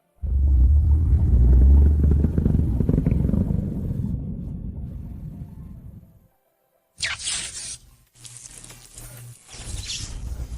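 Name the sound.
mutant wolf roaring in audio drama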